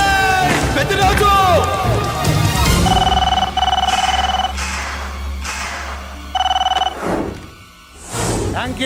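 In a Telugu action film scene, a telephone rings in two electronic bursts, the first longer and the second shorter, loud and close, over a background score with some voices.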